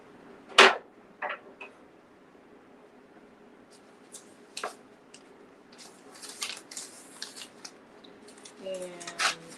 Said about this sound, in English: let's cut a piece of this off.